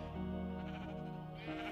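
Sheep bleating in the video game Minecraft, a single drawn-out wavering bleat followed by a second rising one, close and clear with no talk.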